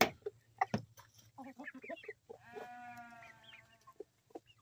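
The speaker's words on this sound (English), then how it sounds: "Come and get it, chickens." Backyard homestead chickens, including hens, cluck and call near the microphone as feed is tossed to them, with a burst of clucks early, a few calls and a steady harmonic squawk in the middle.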